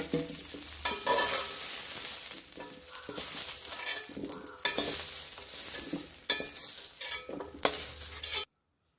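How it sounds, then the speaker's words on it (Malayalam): Shallots sauté in a pan for a medicinal rice kanji, with a continuous close sizzle broken by repeated scraping stirs of a spoon, several strokes at uneven intervals before the sound cuts off abruptly. "അപ്പോൾ നമ്മളത് ഒരു 3 മിനിറ്റ് നേരം വഴറ്റി."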